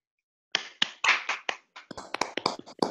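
A handful of people in a lecture audience clap after a guest talk on computational imaging, sparse, separate claps starting after half a second of silence and quickening into an uneven patter, close and fairly quiet.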